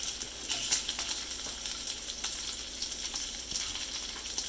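Bacon frying in a pan, a continuous bright sizzle with fine crackles and occasional sharper pops, close and steady with no talking.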